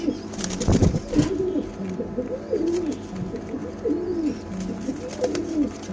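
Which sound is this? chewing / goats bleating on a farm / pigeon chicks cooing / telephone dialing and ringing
pigeon chicks cooing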